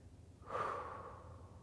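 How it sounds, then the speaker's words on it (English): One slow, deep breath taken during a seated chair exercise, a soft airy exhale swelling and fading over about a second, close and faint with no talking. "I take slow, deep breaths."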